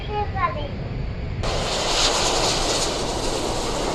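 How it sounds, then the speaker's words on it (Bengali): A loud jet engine roars steadily as a Saudi Airlines airliner lands at Dhaka, rising into a broad rushing whoosh midway; faint voices at the start. "রানওয়ে চুয়ে গেল সৌদি আরব থেকে আগত সৌদি এয়ারলাইন্সের বিমানটি"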